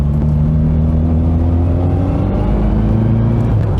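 A classic Mini's small engine burbles steadily at close range, a low, throbbing, waffly exhaust note with a lumpy, uneven rhythm running throughout.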